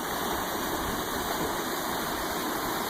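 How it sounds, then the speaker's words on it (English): A mountain stream at a campsite at Glen Allen flows steadily, a constant close rushing and gurgling wash of water that fills the whole stretch without pause or voices. "And we have this stream."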